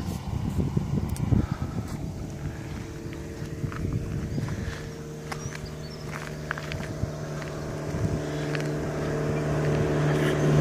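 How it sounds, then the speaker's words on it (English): A ferry passes on Karaka Bay, heard as a steady low engine rumble and drone that builds toward the end, mixed with outdoor bustle, footsteps and occasional clatter nearby. "There goes the ferry."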